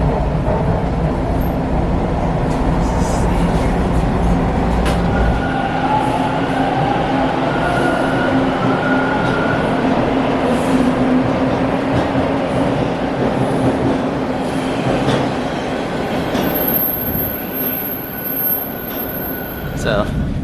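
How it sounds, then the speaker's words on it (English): Old Toronto subway cars on Line 2 rumble loudly through a station, a constant heavy roar with whining motor tones and squeals, the noise easing slightly near the end as a train passes close by. "These are some old subway cars, and they're interesting."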